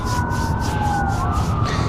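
A wailing siren rises and falls through a city's steady traffic rumble, fairly loud and nearby, with rhythmic pulsing bursts above the tone.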